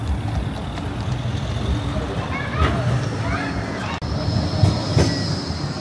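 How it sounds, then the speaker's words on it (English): A tram in Blackpool rolls in with rumbling wheels and metallic squeals rising and falling, loud and close, with voices talking underneath. "Comes our tram to get us back"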